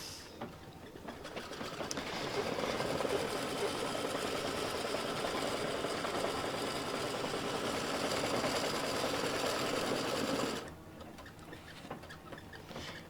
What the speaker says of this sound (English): what it's going to do now is it's going to stitch a placement line for the heat transfer vinyl.